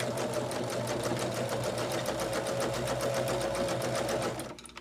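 A sewing machine stitches two fabric pieces for a quilted table runner, a fast, even rattling run of needle strokes up close that slows and stops at the end.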